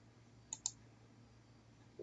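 A computer mouse clicking twice in quick succession, crisp and close, against a faint steady hum.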